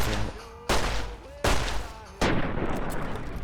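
Gunfire in Fallout New Vegas, three loud, sharp shots spaced roughly evenly apart, each followed by a ringing decay, close and alone without speech.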